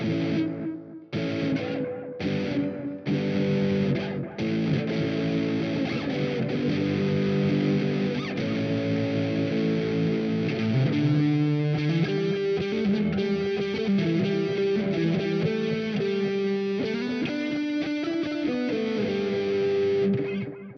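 A distorted electric guitar through a NUX MG-50 processor plays sustained chords and riffs, each note trailing into repeating delay echoes, loud and continuous throughout.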